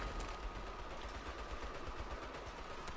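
Rapid automatic turret gunfire in the Saints Row video game, a dense continuous rattle of fast shots held steady at moderate level throughout, with no voices over it.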